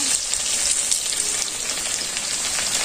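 Potatoes fry in a pan in a village kitchen, giving a steady, close crackling sizzle with small pops throughout and no voices over it.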